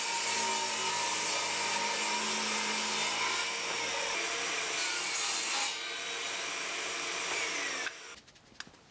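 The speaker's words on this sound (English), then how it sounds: "So I'm going to rip these down to make a little housing for the hook." A saw rips through scraps of plywood in one long, loud, continuous cut lasting about eight seconds before the blade noise drops away to quieter clatter.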